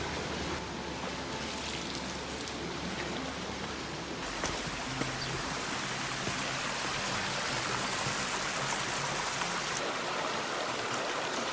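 Steady broadband rush of river water flowing in Catalonia, Spain, continuous and fairly close, with no voices over it.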